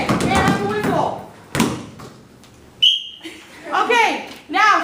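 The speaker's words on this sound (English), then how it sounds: "may I have a whistle?" A short, shrill whistle blast rings out once, clear and loud, during basketball passing practice, between bursts of nearby talking and a couple of soft thumps.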